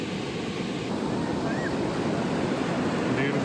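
Atlantic Ocean surf washes onto Playa de Torimbia, a weedy Asturias beach, as a continuous broad roar of breaking waves mixed with wind buffeting the microphone.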